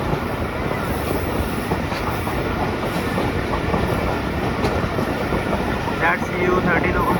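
A Pakistani express train rolls out of Khanewal Junction, a dense, steady rumble and rattle of the cars heard from on board, with faint clicks along the rails.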